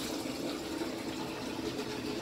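Water sloshing and running out of a pulled-out compartment of a West sanitizer being cleaned, a steady, close splashing wash of sound with no pauses.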